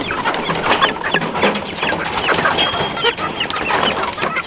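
Chickens cluck continuously in a busy, overlapping chorus around a new automatic chicken coop, close and moderately loud with no talking.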